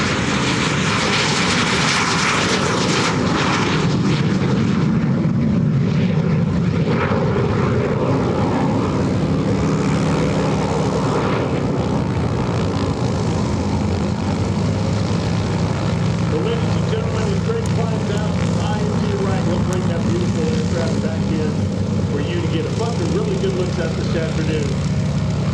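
A Lockheed T-33 Shooting Star jet performs at an airshow. Its engine gives a loud, steady roar that swells and fades slowly as it passes, and an announcer talks over it.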